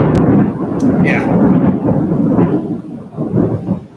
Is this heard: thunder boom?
yes